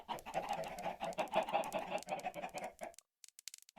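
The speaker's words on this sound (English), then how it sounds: "Make sure you restock your chickens. Plenty of chickens." Minecraft chickens cluck and squawk in a busy overlapping run of game sounds for a few seconds, then a few faint sparse clucks follow after a brief gap.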